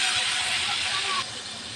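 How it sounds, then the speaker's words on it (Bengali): Prawns frying in a pan in a home kitchen, giving off a loud, continuous sizzling hiss that drops slightly in level near the end. "চিংড়ি মাছ ভাজি করে নেব।"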